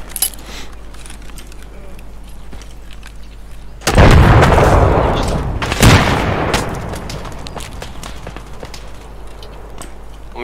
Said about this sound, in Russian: Граната пішла туди.